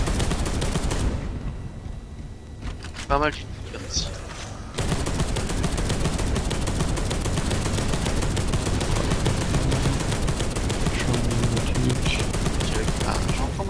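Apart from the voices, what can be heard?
Redeemer cannon firing in video game Space Hulk Deathwing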